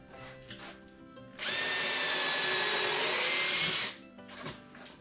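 A drill press bores a hole into wood in a workshop, one steady whining run of about two and a half seconds that starts and stops abruptly, loud and close, with no talking.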